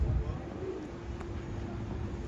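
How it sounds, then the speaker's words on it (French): A pigeon in Palermo, Sicily, gives a low, soft cooing near the microphone, with faint outdoor background noise around it. "C'est un pigeon sans pattes."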